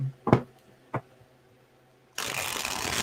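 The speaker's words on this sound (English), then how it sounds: "I don't know why I'm shuffling this version." Tarot cards are shuffled close by in a dense riffling burst that follows a couple of soft handling taps and a quiet pause.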